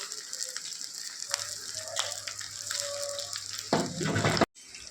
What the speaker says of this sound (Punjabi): ਬਾਕੀ ਦੇ ਪਰਮਲ ਵੀ ਆਪਾਂ ਇਸੇ ਤਰ੍ਹਾਂ ਹੀ ਫਰਾਈ ਕਰ ਲਾਂਗੇ